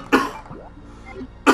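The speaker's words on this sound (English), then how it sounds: "We're both coughing cholesterol out of our bodies." Two short, sharp coughs from a man playing a video game, one at the start and one at the end, close and loud with a quiet gap between them.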